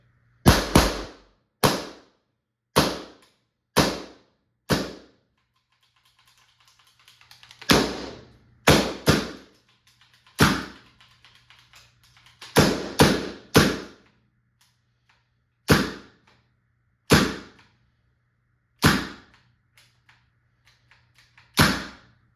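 A Valken M17 less lethal launcher fires a series of about a dozen sharp, loud cracks at irregular intervals, each shot a crisp close pop with a faint hiss of gas between some of them.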